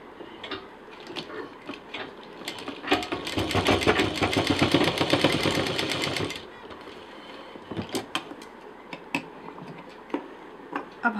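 A sewing machine runs steadily for about four seconds while stitching the border of a fabric sling bag, its rapid needle rhythm loud and close, followed by scattered clicks and handling taps.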